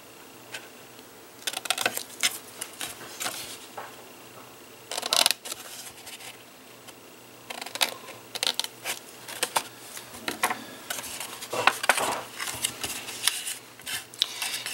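Scissors snipping the corners off small paper squares for a DIY book box craft: repeated crisp cuts and clicks in uneven bursts with brief pauses, close and moderately quiet, with no talk.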